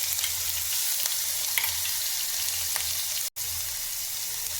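A paste of garlic, ginger, green chilli and cumin fries in hot oil with a loud, continuous hiss and sputter that cuts out for a moment near the end and then resumes.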